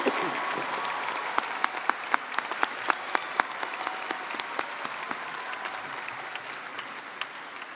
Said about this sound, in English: Of applause to the master's degree graduates.